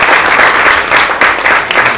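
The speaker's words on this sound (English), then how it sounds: "they all deserve a round of applause for them" Audience applause at a model contest, loud dense clapping from a crowd congratulating the contestants, steady throughout without speech.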